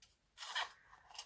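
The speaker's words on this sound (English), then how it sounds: "I'm just going to trim that" Scissors trim vellum paper in one short, close, crisp snip.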